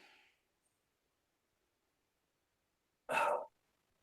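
A single deep, breathy exhale during a yoga session, loud and close, following a short faint breath and several seconds of near silence.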